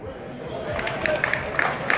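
Audience applause and cheering in a crowd at a GTIFL season 2 football game, steady clapping with a few sharper claps standing out, mixed with crowd chatter and voices.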